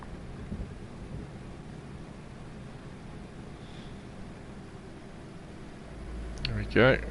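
Steady rain hisses through a DayZ rainstorm, with a deep rumble of thunder swelling near the end over the downpour; a voice speaks briefly as the rumble builds.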